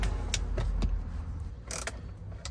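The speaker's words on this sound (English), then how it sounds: "I'm gonna use this deep socket." A ratchet wrench turns a deep socket on trim panel bolts inside a 2011–2018 Jeep Wrangler JK, giving a few sharp, close clicks and short mechanical rattles over a low background rumble.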